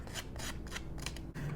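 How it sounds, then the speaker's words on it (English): A scissor blade scraping along the edge of a paper card to distress it, producing a series of short raspy strokes in quick irregular rhythm, close and crisp. "I'm going to use the blade of my scissors to add some distressing"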